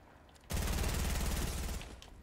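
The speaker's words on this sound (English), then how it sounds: "This other guy is shooting you." Rapid burst of automatic gunfire in Fortnite, one loud sustained volley of evenly spaced shots lasting over a second before cutting off, with faint background sound around it.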